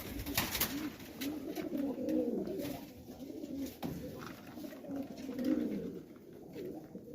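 Highflyer pigeons cooing softly nearby in a repeated, throaty rolling pattern, faint and steady against light background noise.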